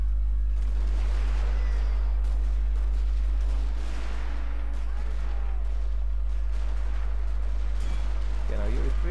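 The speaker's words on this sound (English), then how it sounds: "my Marines look ready to fire, so let's retreat a bit. Yeah, you can fire, guys." Musket volleys from marines in Total War Shogun 2: Fall of the Samurai, an online battle, as a loud, dense crackle of gunfire with booming impacts throughout, a low constant rumble underneath, and someone talking over it.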